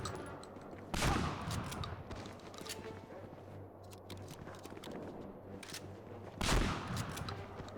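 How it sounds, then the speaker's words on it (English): Shotgun firing in Medal of Honor: Frontline, two loud, close blasts spaced several seconds apart, with scattered fainter gunfire and ambient battle noise between them. "God, this shotgun's terrible."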